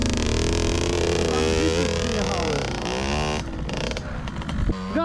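A small engine revs hard under repeated throttle, its pitch rising and wavering, then cuts out and sputters near the end, with shouting voices mixed in.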